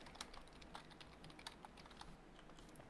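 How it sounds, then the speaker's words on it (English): Computer keyboard typing, quick and aggressive, a dense stream of soft clicks with occasional sharper keystrokes, faint and steady throughout with no voices. "It's aggressive typing."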